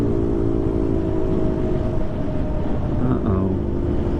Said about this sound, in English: I'm making like some serious road noise.